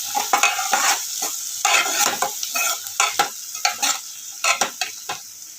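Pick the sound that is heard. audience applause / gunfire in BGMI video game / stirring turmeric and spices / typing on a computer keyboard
stirring turmeric and spices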